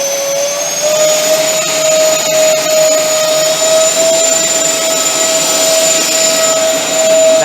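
E-flite A-10 Thunderbolt II RC jet with twin 64mm electric ducted fans held at half throttle, a loud steady high-pitched whine with a sustained tone running unbroken throughout.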